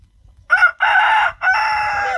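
A rooster crows loudly and up close in one drawn-out call with short breaks, among a backyard flock of Easter Egger and silver laced Orpington hens. No one speaks.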